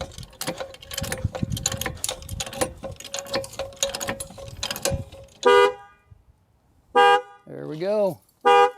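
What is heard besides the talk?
Protect-X Toyota car alarm going off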